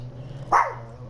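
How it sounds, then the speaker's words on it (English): A single short dog bark, fairly close, over a low steady hum. "Oh, you barking to daddy."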